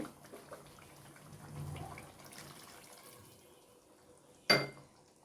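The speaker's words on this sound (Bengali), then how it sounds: "এখানে আর একটু ঝোল দিয়ে দিচ্ছি।" More broth poured into an Ayer fish curry, a faint liquid trickle and splash building gently then fading, followed by a short sharp knock of a utensil against the pot.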